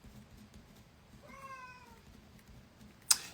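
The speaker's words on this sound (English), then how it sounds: "That was the most pathetic little purr that my cat just did." A pet cat gives one short, thin meow-like purr, quiet and close in a still room, followed by a brief sharp tap.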